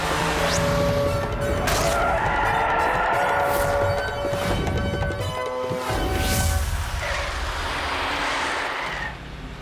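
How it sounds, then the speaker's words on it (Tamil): A cartoon bus lurches off with loud, drawn-out tire screeches over a rough engine roar, punctuated by a few heavy thuds, the skidding continuing throughout before easing at the very end. "போலே, நீ இப்ப பஸ் ஓட்ட ஆரம்பி."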